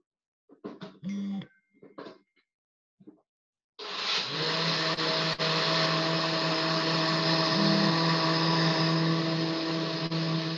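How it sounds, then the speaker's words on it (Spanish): Rice grinding in a kitchen blender: after a few short bursts of handling noise, the motor roars up to a loud, steady whir that runs without a break to the end. "vamos a colocarlo en la licuadora y vamos a empezar a moler"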